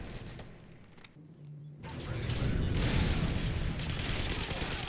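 A predator missile strike in the game MW3 Survival on the Seatown map: a brief lull, then a loud explosive impact swelling into sustained rumbling blast and debris noise.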